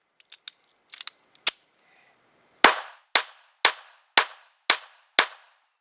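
Pistol gunfire from a Glock 43 or M&P Shield aimed at body targets: after a few small clicks and taps, six loud, sharp shots fire in a steady, evenly spaced rhythm, each with a short echoing tail.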